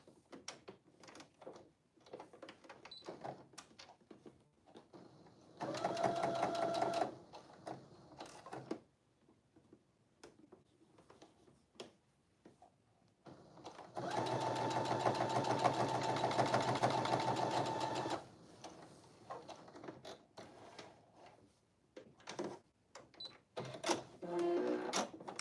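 Sewing machine stitching a bodice in two bursts, a shorter run then a longer steady whir of rapid stitching, separated by quiet handling clicks and pauses, close and moderately loud with no talking over it.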